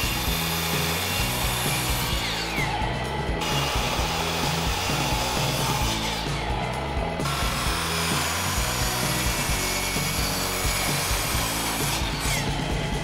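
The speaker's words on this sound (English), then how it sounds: "Now it's back to the miter saw. We're gonna cut some 45 degree triangles to use as supports for the legs." A miter saw cuts 45-degree wood triangles for bench leg supports, a loud continuous whine with three rising cutting passes, close and steady with no talk.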